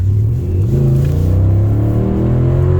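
A Mercedes W211 E63 AMG's engine rises from a deep rumble into a loud, climbing rev as the car accelerates, its throaty drone building steadily and staying close with no voices over it.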